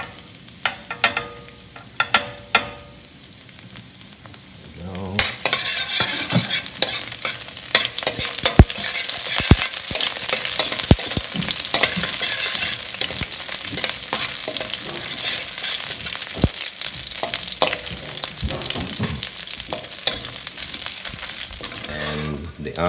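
Chayote squash tops stir-fried with beef and garlic in a hot pan: a quiet start, then a loud sizzle after about five seconds, with continuous frying and frequent scraping, clattering strokes of the utensil throughout.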